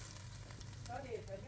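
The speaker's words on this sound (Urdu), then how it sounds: "جس آئل میں پکوڑے بنائے ہیں وہ آئل کڑی کے اوپر ڈالنا ہے" Hot oil left from frying pakoras is poured over kadhi as a tempering, giving a soft, brief sizzle and crackle at low level against a steady low background hum.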